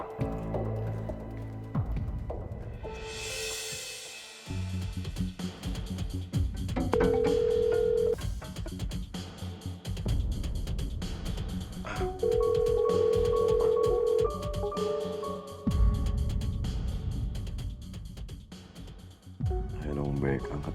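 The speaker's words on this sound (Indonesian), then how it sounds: "angkat telepon ya" A telephone rings in an Indonesian TV drama scene, giving a couple of short electronic ringing bursts while people talk over and around it.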